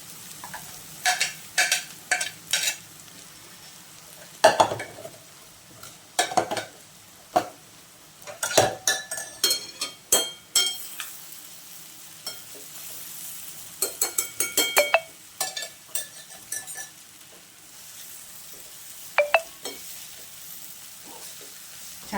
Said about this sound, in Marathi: छान परतून घेऊया तुम्ही.